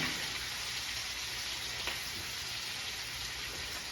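A steak sizzles and fries steadily in a pan, a quiet even crackling hiss with no talk.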